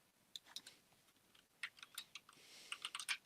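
Computer keyboard keys clatter in bursts of quick typing, faint and thin as if picked up through a remote call connection, with irregular pauses between clusters of keystrokes.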